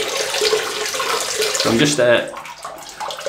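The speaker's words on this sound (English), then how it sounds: "running the hot water, putting the razor underneath it so it's hot" Hot water runs from a tap over a razor in a steady broadband gush, close and continuous, while someone talks over it throughout.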